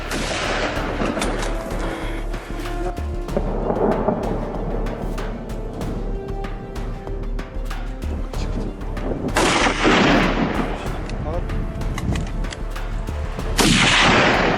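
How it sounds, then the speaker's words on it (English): Gunshots during a wild boar hunt on a peanut farm: several loud, sharp blasts ring out at intervals, each trailing off in a long rumbling echo, with no talk. "Each shot had to be clean, not only to save ammunition, but also to minimize the animal's suffering"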